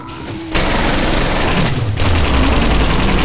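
Gunfire in a horror video game bursts out after a brief quiet moment and keeps up as a dense, loud, continuous roar of booming shots and rumble, with no voices over it.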